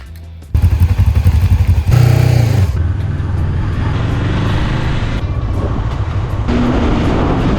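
A motorcycle engine starts up and runs loud and close, revving briefly before settling into a steady idle, with a few thumps and shifts in tone.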